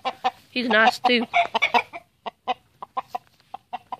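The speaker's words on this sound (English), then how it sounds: "I need another rooster." Someone speaks briefly close by, then a farm rooster clucks in a series of short, sharp, evenly spaced notes nearby.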